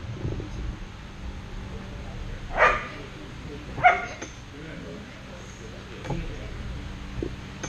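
A dog barks sharply twice during a basic obedience class, with a softer yip later, over a background of voices and room noise.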